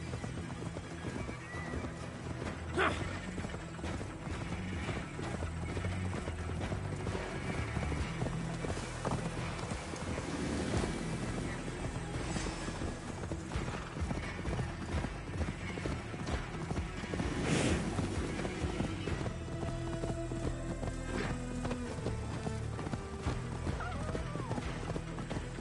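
Horse hooves clip-clop with a whinny in Assassin's Creed Valhalla, steady riding rhythm under a dense, continuous game soundscape of music and ambience, fairly loud throughout.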